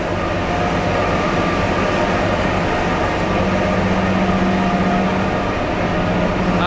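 Himalayan narrow gauge toy train with tiny carriages, heard as a steady, continuous rumble of rolling wheels and carriage noise, close and unbroken throughout.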